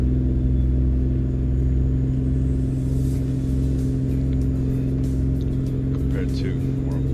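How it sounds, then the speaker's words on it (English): Big Red, a truck pulling a Rogers lowboy trailer, runs with a loud, steady engine drone heard up close, deep and continuous throughout with no pauses. "it seems like this engine also is kind of loud"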